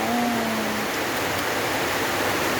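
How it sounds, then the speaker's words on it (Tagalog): Heavy rain falls in a steady, dense hiss that fills the whole moment evenly, with no breaks and no voices. "Kusog sa uwan."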